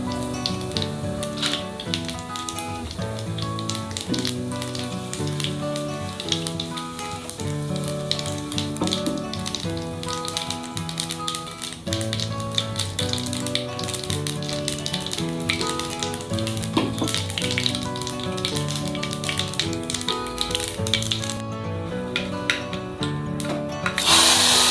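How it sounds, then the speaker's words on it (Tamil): Mustard seeds and urad dal fry in hot oil for a South Indian mulaikeerai kootu tempering, a dense, steady crackle and sizzle with rapid popping throughout, close and fairly loud, without talk. "கடுகு பொரியுதுங்க. இப்போ உளுத்தம்பருப்பையும் ஆட் பண்ணியாச்சு."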